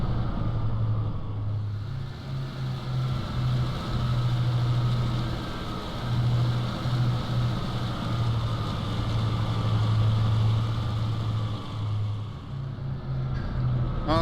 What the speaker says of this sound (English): let me get the brakes off and we will taxi out to our runway and take off in that direction